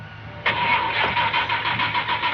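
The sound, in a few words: car engine being started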